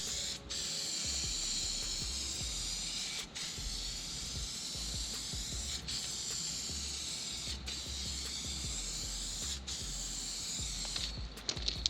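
Spray painting a coat onto aircraft cowlings, a loud continuous close hiss broken by brief pauses every couple of seconds as the trigger is released, ending with a few clicks.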